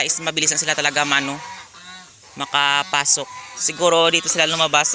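Domestic geese on a Philippine farm honk loudly and repeatedly in bursts close by, their nasal calls overlapping with someone talking between them.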